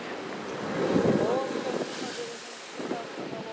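Gentle ocean waves wash in a small, calm bay in Hawaii: a steady broad surf hiss that swells briefly, heavy wind buffeting the microphone, and faint voices in the background.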